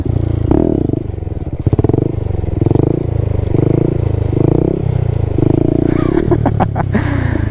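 Motorcycle engine revving and labouring through a wheelie, with the rider feathering the clutch and tapping the rear brake; a loud, close, fluctuating roar with clattering mechanical noise and sharp bursts near the end.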